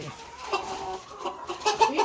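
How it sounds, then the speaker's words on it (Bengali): Chickens at a poultry farm in Croatia clucking in short bursts, several close calls rising toward the end over a low background hum. "মুরগি"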